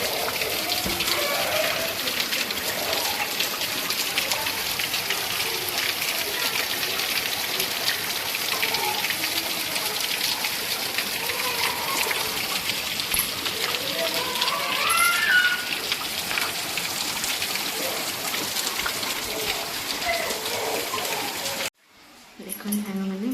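Steady rain falls in a dense, even hiss over a rooftop or outdoor surface, continuous and fairly close, with a faint voice underneath before the sound cuts off near the end.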